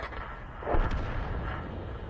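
In World of Tanks, a T92 HMC self-propelled artillery gun fires a shell, a single muffled boom over a low rumbling battlefield background, fairly quiet overall.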